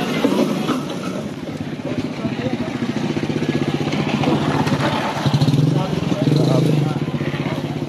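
A motorcycle engine runs steadily and close, a continuous rumble mixed with wind buffeting and indistinct crowd voices at a busy nighttime street market in Malabon.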